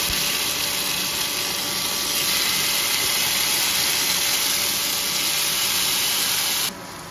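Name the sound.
paneer tikka frying in a pan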